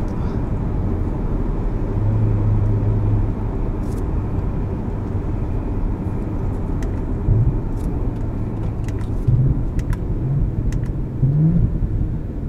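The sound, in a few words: Audi S4 engine revving with exhaust burbles on downshifts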